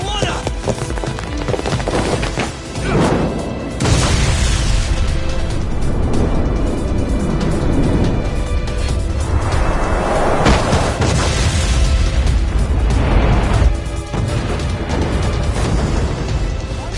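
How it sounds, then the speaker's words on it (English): A ship blows up in the video game Lost Judgment: heavy booming blasts and a rumbling roar continue for the whole stretch, with rattling debris and crackling bursts mixed into dense, loud game audio. "This ship just exploded!"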